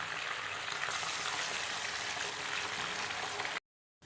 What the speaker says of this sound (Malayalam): അടുത്ത സെറ്റ് മീനും ഇവിടെ പൊരിഞ്ഞ് വന്നിട്ടുണ്ട്.